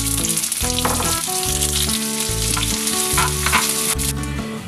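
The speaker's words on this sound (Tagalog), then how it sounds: "ako ay magigisa ng ating bawang, sibuyas" Garlic and onion sauté in a separate pan, a steady close sizzle running under loud, rhythmic background music.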